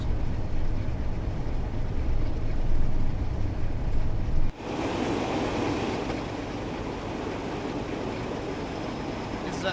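A Class 47 diesel locomotive in Train Sim World 4 rumbling with a steady low engine drone and rolling rail noise, shifting in tone midway, with a voice talking over it.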